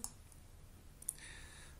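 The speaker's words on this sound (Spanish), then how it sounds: "Vamos a hacer un clic aquí" A computer mouse clicks a couple of times, faint sharp ticks against a low background hum with no talking.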